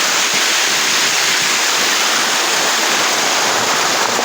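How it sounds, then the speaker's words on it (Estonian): Water pours down a small waterfall in an old quarry at Harku, a steady close rushing and splashing roar with no pauses, dense broadband noise filling the whole clip. "no, on nagu täitsa kose värk siin."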